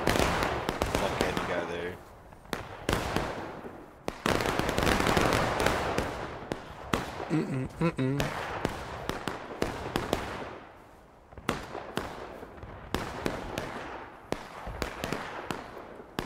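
Musket volleys crack out in the War of Rights video game, dense bursts of overlapping shots with sharp single reports between, loud and near, while players call out over them.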